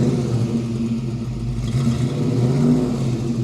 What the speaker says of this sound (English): can you rev the engine for me?